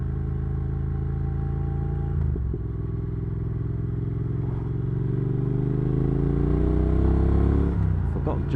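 A Triumph Thruxton R motorcycle rides on slippery roads, its engine droning steadily with clear harmonic tones that shift as it changes gear and accelerates, with some clatter near the end.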